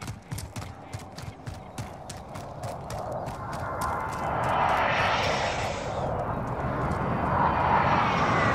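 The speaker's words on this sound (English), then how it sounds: "Enemy UAV overhead" An enemy UAV drone flies overhead in a shooter game, a droning aircraft engine rising and swelling in the distance beneath a rapid series of sharp clicking shots.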